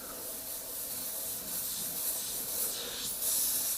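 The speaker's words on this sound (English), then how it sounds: "So spraying with them is just like any other airbrush really." A steady airy hiss of an airbrush spraying paint, continuous and close, swelling slightly in strength toward the end.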